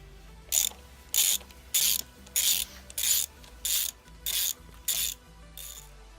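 A ratchet undoes 10mm bolts on the engine of a Honda Civic Type R EP3, giving nine evenly spaced bursts of crisp, close clicking with short pauses between strokes.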